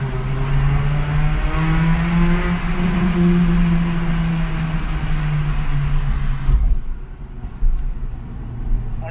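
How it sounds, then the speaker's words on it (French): A car accelerating hard through a tunnel, a loud sustained engine drone with steady low harmonics and echoing road roar, then an abrupt drop to quieter rumbling with bumps. "toujours quand tu passes dans les tunnels, tu es obligé de faire une accélération débile"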